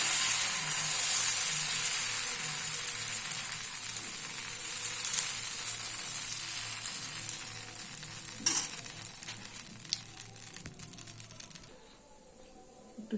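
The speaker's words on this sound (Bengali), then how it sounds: "দিয়ে দিচ্ছি ধোসার ব্যাটার" Dosa batter sizzles steadily on a hot pan for about twelve seconds, a loud, close hiss with light scraping and clinks before it quietens near the end.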